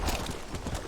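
Horse hooves clip-clopping in the video game Red Dead Redemption on the Switch, a quick steady gallop rhythm, brief and moderately quiet.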